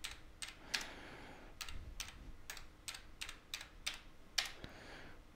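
Name typed on the keyboard of a VT320 terminal: about a dozen crisp, separate keystrokes in an uneven rhythm, close and fairly quiet, with one louder key press near the end and no talking.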